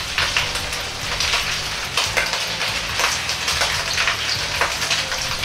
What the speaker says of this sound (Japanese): 皮をも揚げていきます 皮には水分が多く含まれているため油が冷めるので注意して揚げてください